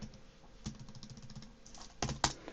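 Fast keystrokes on a computer keyboard while entering VLAN configuration commands on a Force10 network switch, a steady close patter of clicks with a couple of louder key strikes near the end.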